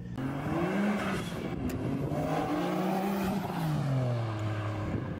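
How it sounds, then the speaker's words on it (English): A modified Nissan Skyline R34 GT-R engine runs at a steady idle close by, its low rumble holding and wavering slightly, with no voices over it. "let's start the car here"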